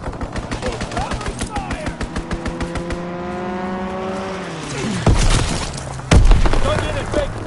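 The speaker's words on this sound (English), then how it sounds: "Enemy strafing run incoming." Rapid gunfire from an enemy strafing run in the video game Call of Duty WWII, a fast regular burst of shots that gives way to a sweeping engine drone and two heavy booms near the end, with game voices mixed in.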